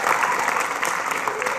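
Audience at a high school graduation ceremony breaking into dense, sustained applause, many hands clapping at once, loud and steady for the full moment.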